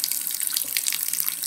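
Tap water runs steadily into a hermit crab's enclosure, a continuous close hiss of flowing water with no talking.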